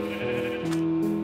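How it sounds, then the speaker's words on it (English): A gray sheep in the Minecraft video game bleats in a drawn-out, wavering tone, loud and close, with no talk over it. "the gray sheep."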